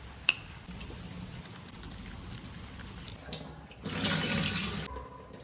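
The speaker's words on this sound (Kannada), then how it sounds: "ಫೈನಲಿ ನನ್ನ ಫಿಶ್ ಎಲ್ಲ ಕ್ಲೀನಿಂಗ್ ಮಾಡಿ ಆಯಿತು" Tap water runs steadily into a sink while fish (mackerel and pomfret) are rinsed and cleaned in an Udupi home kitchen, a low splashing stream that swells louder and fuller near the end.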